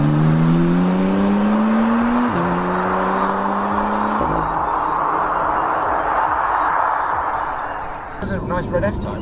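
A red Jaguar F-Type V6 sports car drives with a steady engine note that rises through gears, with shifts audible, under ongoing talk from inside the cabin.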